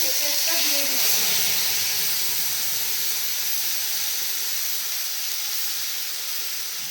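White cumin and spice paste hits hot oil in a pan for a rui fish curry with cauliflower, letting out a loud, broad, continuous sizzle that fades slightly over several seconds, and a voice is heard briefly at the start.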